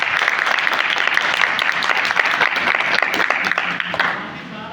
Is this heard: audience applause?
yes